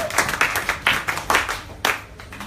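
A church congregation at a Bible study claps for the Lord in loud, rhythmic bursts of hands striking together, close and steady, with no talking over it.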